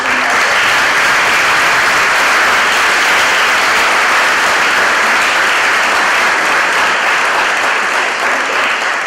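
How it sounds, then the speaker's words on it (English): A large audience in a high school setting gives a loud, sustained round of applause, dense clapping that fills the whole stretch without letting up. "give a good round of applause for those men"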